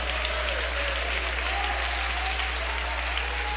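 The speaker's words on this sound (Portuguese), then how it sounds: "Pode louvar a Deus com palmas." Church congregation clapping hands together in praise during a sermon: dense, steady applause from many people filling the room, continuous and moderately loud, with no voice over it.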